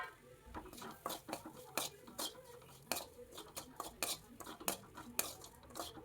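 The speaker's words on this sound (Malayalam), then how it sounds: "അതൊന്ന് വറുത്തെടുക്കണം." Grated coconut, about three quarters of a cup, roasting with fennel seeds in a hot pan for a Kerala-style ash gourd masala curry, heard as a steady run of sharp spoon-and-pan scrapes and clinks close by, with no talk.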